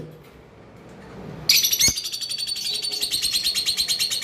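A female red head opaline pet bird, likely a parrot, calls after a quiet start, breaking into loud, rapid, repeated sharp chirping that continues in a steady pulsing rhythm close by.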